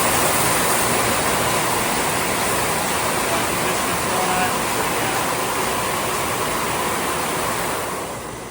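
Water runs in a steady, loud rushing hiss as a tank wash cycles through maple sugaring equipment, continuing evenly before easing slightly near the end.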